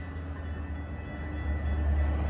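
Metra Milwaukee West line train arriving at Franklin Park station, a steady loud low rumble of rolling wagons that swells slightly as it comes close, with no talk.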